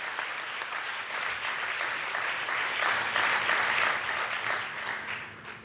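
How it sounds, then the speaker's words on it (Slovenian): Audience applause at an honorary citizenship ceremony in Ljubljana, a sustained wash of many hands clapping that swells in the middle and fades toward the end, no talking. "Jaz predlagam, da še enkrat zaploskamo."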